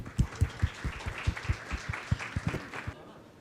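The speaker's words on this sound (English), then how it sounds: "Let us give a round of applause for Mr." Sparse applause from a small audience at a corporate HR panel discussion, a few distinct claps in a loose, uneven rhythm that fade out after about three seconds, with no talking over them.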